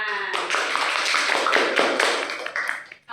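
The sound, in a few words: class applauding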